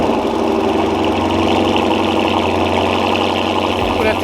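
Car engine cold start, heard as a loud, close, steady idle with a constant low rumble and rough mechanical clatter that continues unchanged throughout.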